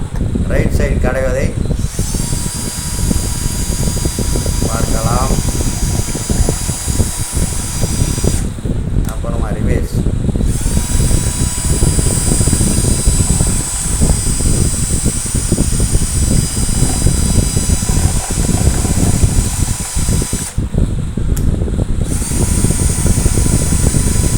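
A power drill fitted with a plastic churner whirs steadily as it churns an oil and butter mixture with kungiliyam resin. The loud, continuous mechanical drone pauses briefly twice, and someone talks over it throughout.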